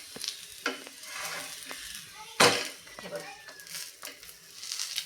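A spiced achari paratha roasts on a pan over slow to medium heat, giving a soft sizzle broken by scraping turns and a spatula clatter, with a voice talking alongside.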